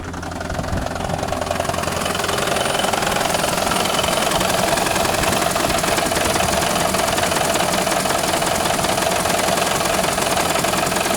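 Toyota Prius 30 hybrid engine running at a steady, loud idle with a dense knocking rumble and mechanical whine, nearby and continuous throughout, no talking.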